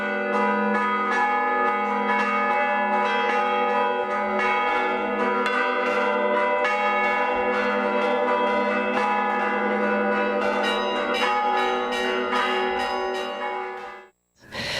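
Church bells ring in Diamantina, a dense, loud, sustained peal with overlapping resonant strikes that carries on steadily before cutting off near the end.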